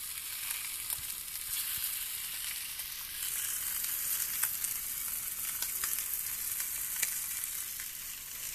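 Beef short ribs searing in a hot pan, a steady bright sizzle throughout with small crackles and pops, close and loud, with no talking.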